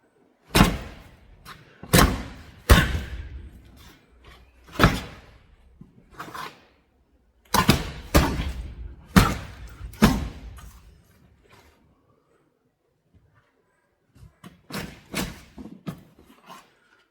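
A full-tang fruit knife stabbed repeatedly into a homemade training dummy, giving a series of sharp, close thudding impacts in irregular clusters with short pauses between them.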